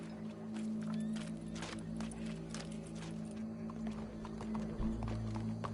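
Steady clip-clop of horse hooves at a walking pace in the video game Red Dead Redemption 2, over a constant low hum, with a faint whinny-like tone partway through.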